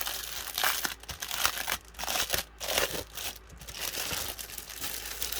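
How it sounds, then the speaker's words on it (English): Crinkly plastic packaging is handled and torn open nearby, producing irregular bursts of crackling and rustling with brief pauses, fairly quiet and without speech. "Sorry for all the crinkling, folks, but these all come in crinkly packages."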